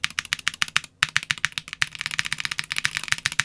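Rapid typing on a custom mechanical keyboard fitted with Black Jade Pro switches gives sharp, crisp clacks in a quick, steady rhythm. A short pause comes about one second in, then the keystrokes resume densely, close up with nothing else heard.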